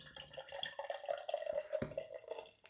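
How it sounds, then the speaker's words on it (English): Bistro Pumpkin Cobbler beer, a 2023 pumpkin beer from Energy City Brewing, pours steadily into a glass with close, continuous splashing and bubbling trickle, no voices present. "Give it a pour here."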